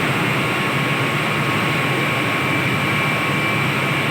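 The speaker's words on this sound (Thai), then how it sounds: "ฟังเสียงนะครับเครื่องยนต์สตาร์ทขึ้นทั้งสองฝั่ง" Chiller units at Bang Sue Grand Station starting up on both sides, heard as a steady, loud broadband roar with a low hum and faint tonal whine, continuous and unchanging throughout.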